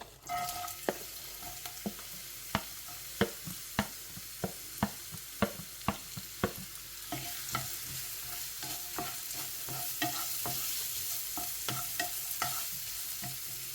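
Chopped onions dropped into hot oil fry with a soft, steady sizzle, punctuated by a dozen or so sharp, rhythmic clicks of a spoon stirring against the pan, fairly quiet and with no voices.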